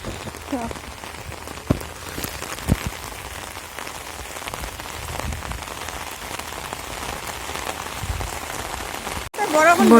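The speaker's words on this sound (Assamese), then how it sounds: "বৰষুণ বেছি আহি আছে মই কি জানি এতিয়া তিতি যাম" Heavy rain pours onto a roadside during a morning walk, a dense, unbroken hiss of drops close by with occasional sharper splashes, swelling louder in the final second.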